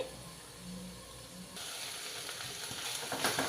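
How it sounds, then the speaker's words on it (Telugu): Capsicum frying in a pan, a steady soft sizzle and hiss that grows louder partway through as the pieces are stirred. "ఇలా మధ్య మధ్యలో కలుపుకుంటూ ఒక ఐదు నిమిషాల పాటు ఇలా వేయించుకోవాలి"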